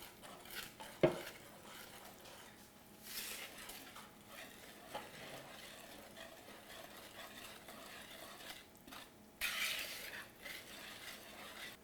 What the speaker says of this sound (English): now you combine the wet and dry ingredients together